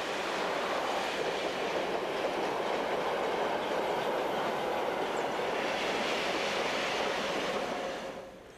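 A train runs along the Austrian railway line through Zell am See, an east-west route carrying trans-European traffic, producing a loud, steady rolling rumble with faint wheel rhythm that fades away at the end.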